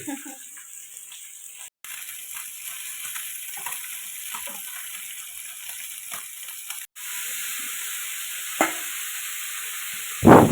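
Fish fries in a pan with a steady, bright sizzling hiss throughout, broken by a couple of brief clatters near the end.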